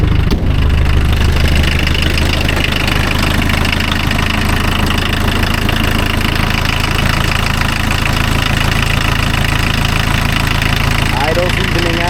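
A VW Rabbit diesel engine runs steadily at idle, a continuous rough low rumble with knocking vibration throughout, close and loud, with a brief rise near the start as it catches.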